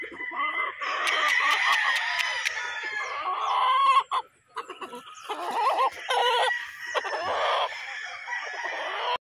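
Gamefowl roosters at a gamefarm crow repeatedly and cluck close by, several birds overlapping in loud, ringing calls with short pauses between bursts.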